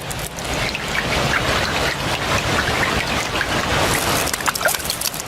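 Rain falling steadily in a wet, heavy-rainfall habitat, a dense close patter of drops that holds at a constant level throughout, with no voices.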